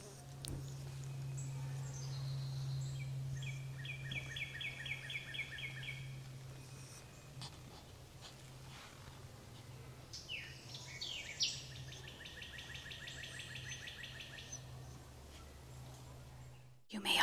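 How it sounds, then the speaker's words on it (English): Birds chirp and sing in the woods of Congaree National Park, two clear trilling song bursts at moderate distance over a steady insect drone and faint ambient hum. "The birds chirping in the woods."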